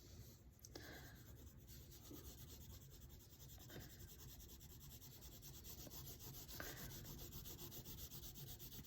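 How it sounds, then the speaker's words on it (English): A background is colored in on paper with steady back-and-forth scratchy rubbing strokes that continue without pause, close and fairly quiet, with no voices. "We're almost done coloring in that background."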